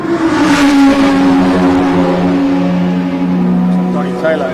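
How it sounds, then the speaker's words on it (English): A Ferrari race car accelerates on a racing circuit, its engine note holding strong, steady tones that rise and shift over a few seconds, loud and close. "Now by Brad Storer. In the Ferrari."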